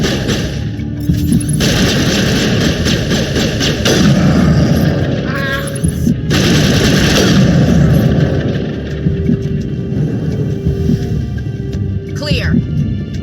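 Mass Effect 3 combat: bursts of gunfire and heavy booming shots crackle over a dense battle din, loud and close, with game characters' voices shouting among the shots.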